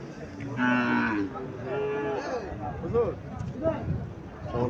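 A seven-to-eight-month-old Sahiwal heifer calf at a cattle market in Cumilla moos several times, long and fairly close, while someone talks over and between the calls amid faint crowd noise.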